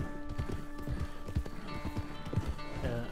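Horse hooves clip-clop in Red Dead Redemption 2, a steady run of fairly close hoofbeats with faint game ambience underneath and no talking.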